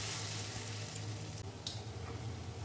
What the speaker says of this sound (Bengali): এই যে এইভাবে সমস্ত বড়াগুলো আমি এখানে ভেজে তুলে নেব।